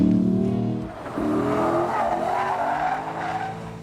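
A Lexus GS-F sedan driven hard, its engine roaring loud and close with strong rising and falling harmonics, a brief dip and then renewed acceleration, with a hint of tire squeal.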